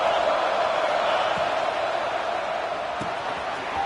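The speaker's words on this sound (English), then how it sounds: "This crowd is trying to inspire this defense to make a big red zone stop." A stadium crowd at a football game roars steadily as fans urge the defense toward a red zone stop, a dense, loud, unbroken wall of noise throughout.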